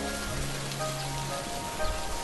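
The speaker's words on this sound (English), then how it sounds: "Oh my God, it started raining." Steady rain from a toy farm diorama scene patters on a surface, a dense even hiss with a faint low hum under it and no voices.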